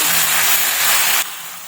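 Tomatoes and peas frying in a pan with carrots and cauliflower, a loud steady sizzling hiss that suddenly drops to a softer sizzle partway through, close by, with no talking.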